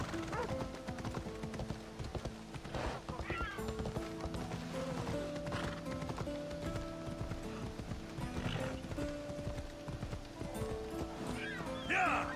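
In a video game set near a military port, horse hooves clip-clop steadily through a busy mix of game sounds and music, with someone talking over them at moderate loudness.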